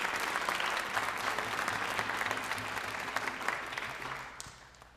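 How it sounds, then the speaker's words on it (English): Audience at a school marching band season review concert applauding warmly, a broad patter of clapping with a faint low hum beneath that thins and fades out toward the end. "could we have a quick round of applause for all the staff and parent volunteers"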